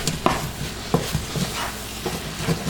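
Seasoned ground meat is stirred in a pan as the nacho base, with a few distinct scraping strokes over a faint steady sizzle, close and moderately loud.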